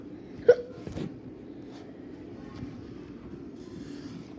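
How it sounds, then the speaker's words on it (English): A single sharp hiccup from a person, heard close and clear near the start, followed by quiet background rumble with no talk. "I had the hiccups"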